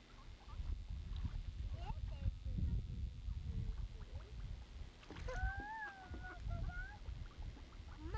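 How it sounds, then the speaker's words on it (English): Ducks being fed with bread on a river make a few short calls that rise briefly above a steady bed of water and boat noise, with people talking nearby. "Yeah, we've got ducks now."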